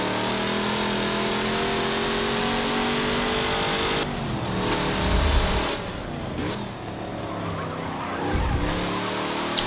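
A Chevrolet Nova race car in Forza Motorsport 7 roars at high revs, then drops and climbs again with gear shifts and brief skids, loud and close, with no voices.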